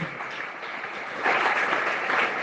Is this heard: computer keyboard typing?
no